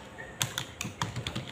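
Keys clatter on a computer keyboard in a short burst of about eight quick, uneven taps, close and fairly crisp against a quiet room.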